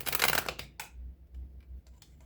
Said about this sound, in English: First, I'm gonna have to be able to shuffle them.